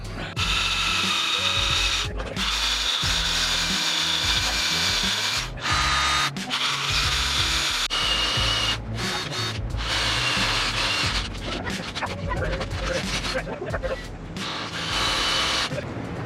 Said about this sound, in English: let's drill these holes out to the correct size